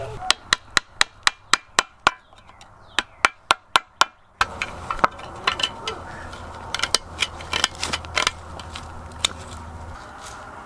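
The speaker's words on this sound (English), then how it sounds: "It's loosening the rust, and we're chipping it away." A screwdriver taps and chips rust buildup off an old metal find, a close run of sharp, evenly spaced clicks followed by scattered scraping and knocks under low talk.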